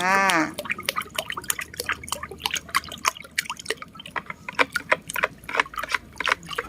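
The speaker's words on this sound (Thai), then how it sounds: "หนึ่งช้อนชานะคะหนึ่งช้อนกาแฟเรานี่แหละนะคะเทลงไปเลยหลังจากนั้นก็คนค่ะ" Laundry detergent powder, about a teaspoon, stirred into a bucket of water for a homemade garden pest spray, giving a rhythmic series of close, wet sloshes and splashes.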